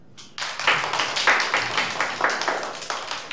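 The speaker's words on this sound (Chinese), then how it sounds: "我们用热烈的掌声感谢杜鹃老师" An audience of children in a classroom bursts into warm applause for their teacher Du Juan, dense rhythmic clapping that starts abruptly and holds steady, close and fairly loud.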